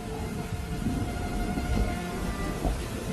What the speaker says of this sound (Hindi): अरे ये बारिश तो रुकने का नाम ही नहीं ले रही।